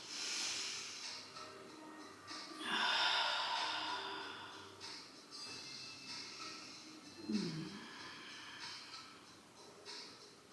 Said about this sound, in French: Prendre de grandes et profondes respirations.